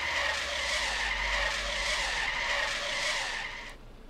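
Car tires skid hard under braking in Trader Life Simulator, a loud sustained screech held steadily for over three seconds before cutting off abruptly, with no talking.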